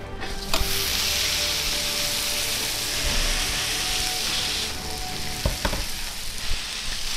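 Steak pocket searing in a hot pan with rosemary butter: a loud, steady sizzle runs throughout, with a few sharp clicks and taps near the start and toward the end.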